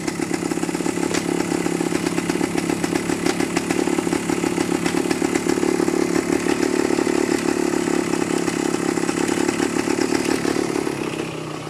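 A 1972 Yamaha AT2 motorcycle engine idles close by, a loud, steady, rapid chugging that holds even throughout and eases slightly at the end.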